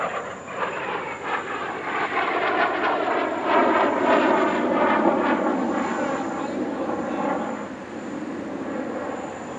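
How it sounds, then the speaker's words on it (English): An L-15A jet trainer, the non-afterburning version, at the Dubai Airshow, its engine roaring loudly as a sustained rushing whine that swells and slowly fades as the aircraft passes. "This is an L-15A, a non-afterburning training version."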